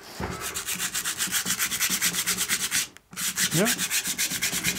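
Sandpaper is rubbed over painted wood in steady back-and-forth strokes, a close rhythmic rasping that pauses briefly and resumes; a short voice is heard once.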